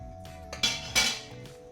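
Curry being stirred in a pot and thinned with a splash of fish stock: two sharp metallic clanks of a utensil against the pot stand out over a low steady hum, close and fairly quiet.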